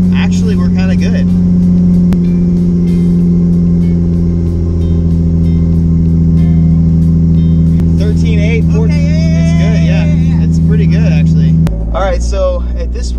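Turbocharged Toyota Supra engine running loud and close with a strong steady drone that climbs and wavers under revving, then drops sharply near the end; voices talk over it.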